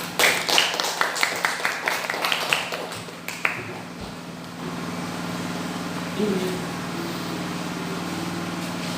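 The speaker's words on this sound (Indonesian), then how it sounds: "Bagus, tepuk tangan." Clapping in a classroom during a mathematics lesson, a short burst of separate claps over the first few seconds that then fades into a steady low room hum.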